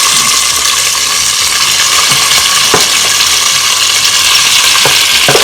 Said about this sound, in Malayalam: എണ്ണ ചൂടായിട്ടുണ്ട്. നമ്മൾ ചിക്കൻ ഇതിലേക്ക് ഇട്ടിട്ട് പോവാം.